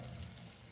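Red chillies sizzle in hot oil for tamarind rice, a soft steady crackle with faint bright pops, quiet and close, with no voices.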